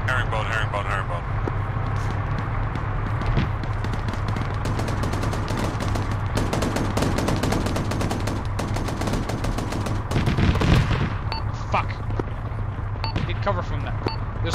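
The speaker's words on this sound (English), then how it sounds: "There's an autocannon shooting from somewhere to the north-northwest." Rapid bursts of autocannon fire rattle continuously in ARMA 3 combat, heavy and somewhat distant, with a louder burst near the end, while voices talk over the shooting.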